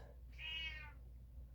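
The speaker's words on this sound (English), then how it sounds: "And I have a friend here, Pepper the cat." A house cat meows once nearby, a single drawn-out, moderately loud call over a steady low hum, with no talking.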